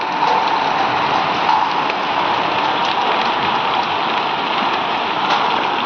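Heavy, constant pelting of hailstones rattling down on surfaces nearby, a loud unbroken clatter with sharp individual hits poking through.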